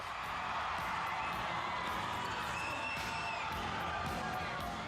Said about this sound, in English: And this huge crowd is in raptures.